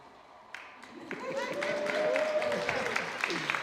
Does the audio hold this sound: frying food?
no